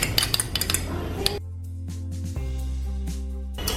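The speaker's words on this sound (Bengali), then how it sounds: "এখন আমি দইটা একটু বিট করে নিচ্ছি, বিট করে এর মধ্যে দিয়ে দিচ্ছি।" A spoon beats yogurt in a bowl with a quick run of close clinking, scraping strokes, followed by a steady hum and a few faint taps.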